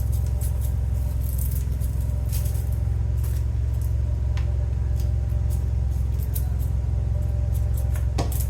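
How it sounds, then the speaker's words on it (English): Scissors snip through dried onion seed heads during a garden seed harvest, giving a run of quick, crisp cuts and faint rustles over a steady low hum, with no talking. "Before I bought these scissors, I was using like just a regular pair of scissors."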